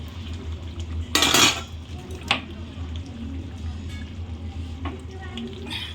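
A cooking pot lifted off a gas stove after cooking: one clear metallic clank and scrape of the pot, a smaller knock a moment later, and kitchen clatter under a steady low hum.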